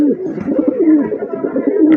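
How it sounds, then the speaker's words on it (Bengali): A large male pigeon coos in a steady, continuous run of low throaty calls, close and fairly loud, with no talk over it. "মাশাআল্লাহ বিগ সাইজের একটা নর কবুতর"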